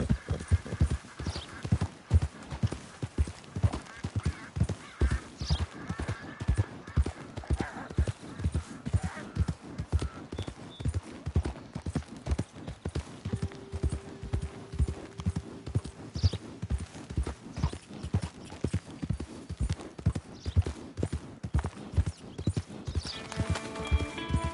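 Horse hooves clip-clop at a steady walking rhythm for the whole stretch, crisp and close, with a brief neigh partway through and faint ambient sound in the background.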